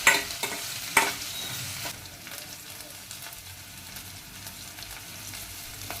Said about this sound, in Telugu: పచ్చిమిర్చి, ఉల్లిపాయ వేసి కాస్త వేగనిస్తానండి.